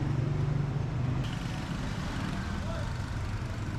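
Traffic on a busy road in Dumaguete city, a constant broad rumble of passing cars and trucks, loud and steady throughout.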